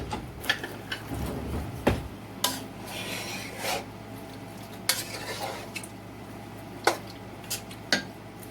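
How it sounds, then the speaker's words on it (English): A spoon stirs a pot packed with vegetable soup ingredients, giving scraping, clinking strokes against the pot at an irregular rhythm, fairly close and moderately quiet, with no talking. "I'm going to give this a stir."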